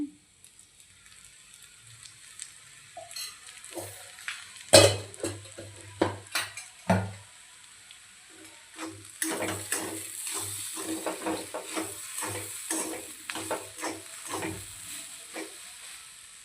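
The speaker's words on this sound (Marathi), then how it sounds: "आता यावरती मी थोडंसं तेल ॲड करते" A little oil goes into a pan of cooking chana dal for Maharashtrian sukka zunka. Close, scattered utensil clinks and scrapes come first, then a bright, steady sizzle rises and keeps going under the stirring, with no voices.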